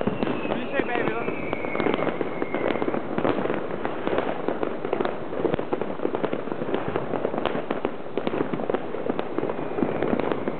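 New Year's midnight fireworks in Denmark: a dense, continuous barrage of crackling bangs and whistling rockets, loud and close with no pause, while people talk underneath.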